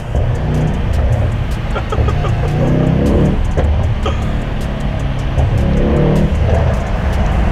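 Mercedes-AMG E63 S V8 engine heard from the back seat while driving through London, a steady loud droning rumble with faint crackles on top, continuous throughout with no talking.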